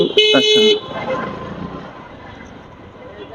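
A loud car horn honks once at the start, then fades into a steady rumble of night street traffic in a jam with scattered voices in the background.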